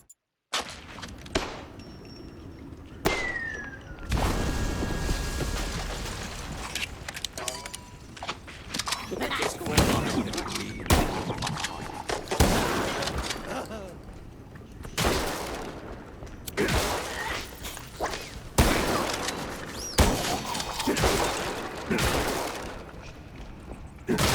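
Rapid bursts of gunfire crackle in the video game Mouse P.I. For Hire, with sharp shots and thuds scattered through the clip and a voice talking over the action.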